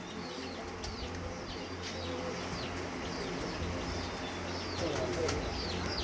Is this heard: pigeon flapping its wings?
yes